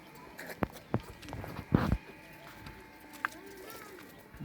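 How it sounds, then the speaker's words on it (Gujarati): Pigeons at a home loft giving soft, faint coos among a few sharp taps and wing or foot sounds, with brief low murmuring nearby. "3 મોટા કબૂતર ઉડવાવાળા છે યારે, અને એના બચ્ચા નીકળે છે યારે"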